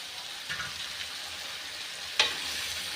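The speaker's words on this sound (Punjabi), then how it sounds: "ਹੁਣ ਆਪਾਂ ਕੱਟੇ ਹੋਏ ਆਲੂ ਗਾਜਰਾਂ ਮਸਾਲੇ ਦੇ ਵਿੱਚ ਐਡ ਕਰਤੇ" Chopped potatoes and carrots frying in a spice masala, a steady soft sizzle with a faint stir around the half-second mark and a sharp clink of a utensil near the end.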